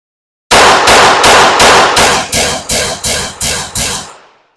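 Rapid string of about ten loud, close pistol shots at GSSF shooting practice, fired in a quick even rhythm, each crack sharp with a brief echo tailing off after the last.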